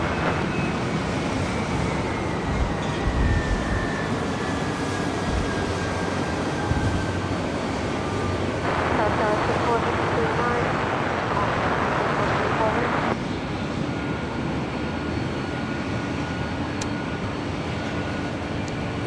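Boeing 747 jet airliner taxiing at LAX airport, a steady distant jet-engine roar with a rising whine, mixed with background airfield noise and occasional radio chatter voices.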